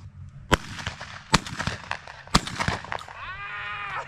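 Several sharp shotgun blasts ring out in the open field during a dove hunt, each a loud crack with a short decay, spaced about a second apart, followed by a ringing tonal whine and light background noise.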